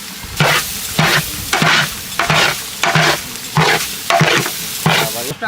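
Whole spices, cinnamon, bay leaf and cardamom, are stirred in hot oil in a pan for a homestyle Bangladeshi chicken biryani, the spoon scraping in regular strokes about twice a second over a steady sizzle, close and loud.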